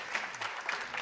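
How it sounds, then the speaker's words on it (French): Audience applause at a 2022 innovation event, a steady wash of clapping from many hands throughout, moderately loud, with no voices on top. "Vous êtes applaudi par le public qui vous découvre d'ailleurs"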